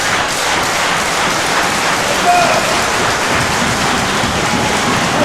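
Sold-out wrestling arena crowd cheering loudly and constantly during a Reality of Wrestling title match, a thick wall of applause and shouting with no clear pauses and no one speaking over it.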